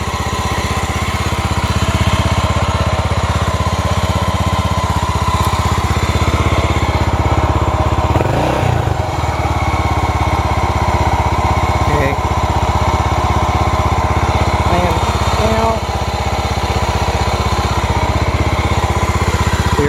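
A cold 1989 Honda GB 500 motorcycle engine idles steadily after years on museum display, a loud, close, continuous throb heard at length while someone talks over it.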